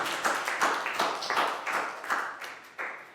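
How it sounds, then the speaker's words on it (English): A small group of Year 4 students claps steadily for a few seconds in a classroom, bursts of applause rising and fading, fairly close with no talking. "High five and a big round of applause for Chu."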